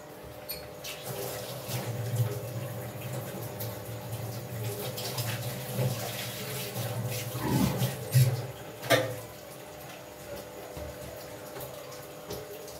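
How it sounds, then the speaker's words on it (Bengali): A tap runs steadily while hands are washed beneath it, with water splashing and spattering in bursts over the flow. A loud splash comes near the end before the sound settles. "এবার হাত ধুয়ে এসে এটা করবো।"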